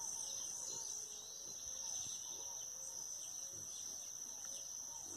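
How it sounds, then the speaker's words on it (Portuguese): Azulão (blue grosbeak) songbirds singing from a mango tree at a rural farm at dawn, steady chirps over a loud constant insect drone, moderately distant, with no talk. "Tem uns azulão aqui, azulão cantando."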